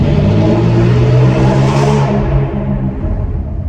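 A freshly started Dodge Challenger GT engine, still cold, rumbles loud and close as the car pulls out of a garage, a steady low drone with a brief rise in revs before settling.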